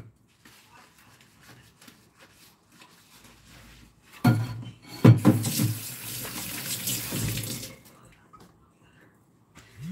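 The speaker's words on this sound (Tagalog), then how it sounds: "Maghugas na ako ng plato, guys." Tap water runs into a sink while dishes are washed, starting quietly and then gushing louder for several seconds with clinks and splashes before tapering off.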